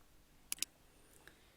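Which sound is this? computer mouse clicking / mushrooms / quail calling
computer mouse clicking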